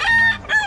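A rooster crows close by, a single short, loud two-part call standing alone.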